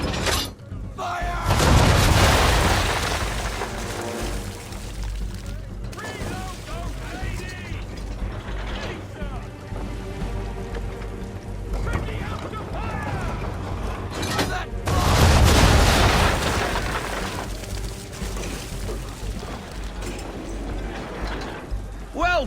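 Ship cannons firing a broadside of round shot in Assassin's Creed 3, heavy booms and crashing blasts at the start and again midway, with creaking ship mechanisms, sea ambience and shouted talk throughout.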